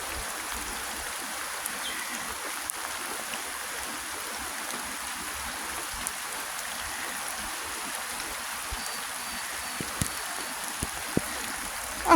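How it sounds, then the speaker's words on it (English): Rain falling outdoors over a Texas pasture during flooding, a soft, steady wash of drops with occasional sharper taps close by and a faint stream-like hiss throughout. "I hope this doesn't ruin my phone being out in this rain like this."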